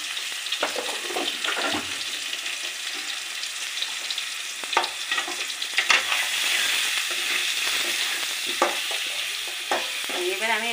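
Spices including salt, turmeric and chilli powder fry in hot oil in a pan, a steady close sizzle with intermittent scraping and stirring clatters throughout, no talk.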